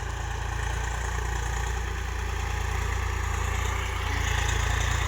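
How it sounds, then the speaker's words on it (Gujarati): A Swaraj 735 FE tractor engine runs steadily at a distance, a low, even rumble that grows slightly louder toward the end as it nears. "દૂરથી કેવું દેખાય ટ્રેક્ટર આવે છે"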